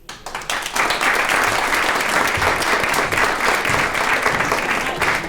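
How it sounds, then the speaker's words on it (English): A loud, sustained round of applause from an audience for the performers at a magic show, many hands clapping densely and evenly throughout, building quickly at the start. "one more big round of applause for all of our performers tonight"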